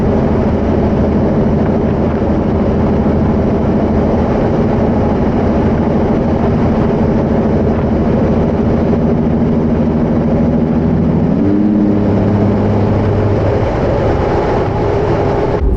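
Jeep Wrangler engine fitted with a cold air intake, miked under the hood while cruising down the road: a steady, loud low drone and rumble that runs throughout, with a brief pitch shift near the end.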